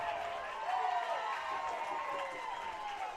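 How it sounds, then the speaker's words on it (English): A crowd of Hays Larks baseball fans cheers and hollers at a tense NBC World Series semifinal game. The roar is steady and somewhat distant, filling the ballpark without pause for a few seconds. "I'm hearing all sorts of cheering over here to the left of me"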